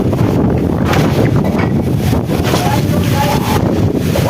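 Stormy wind sweeping over an open house rooftop during a rainstorm, a loud, steady roaring rush with gusty buffeting against the microphone throughout, no clear voices.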